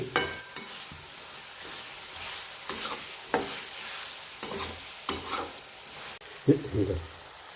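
Tomatoes simmering in a pan for a tomato, egg and onion chutney, giving a low steady sizzle with repeated scraping stirs of a spoon against the pan, heard close and without talk.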